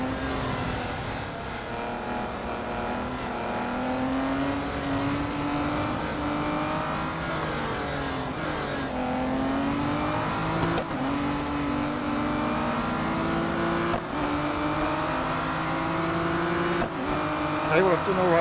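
Race car engines in Real Racing 3 during a three-lap special around the Porsche test track, a steady loud drone of revving engines rising and falling with gear changes, continuous throughout.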